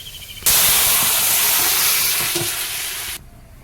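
Shol fish and raw mango curry in a pan bursts into a loud, close hissing sizzle that holds steady for several seconds with light stirring scrapes beneath, then stops suddenly.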